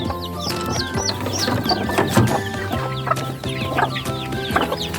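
Chicks and hens clucking together, a dense mix of high peeping and lower clucks, close and continuous.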